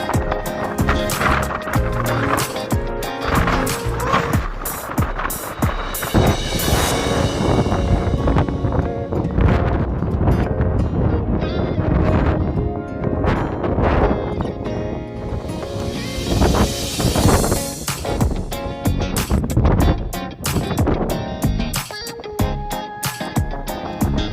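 Strong gusty wind at Hoover Dam buffets the microphone in loud, rumbling bursts that rise and fall, with faint traffic noise mixed underneath.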